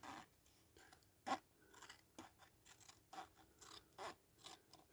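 Scissors snip through parts of a 1964 Dinky diecast Routemaster double-decker bus being restored, a series of sharp, close, quiet cutting clicks and crunches spaced irregularly.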